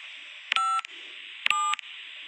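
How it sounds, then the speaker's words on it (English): Two short bursts of telephone keypad dialing tones ring out about a second apart over a steady electronic hum, each burst a quick run of clean beeps. "Give me that phone. I'm dialing."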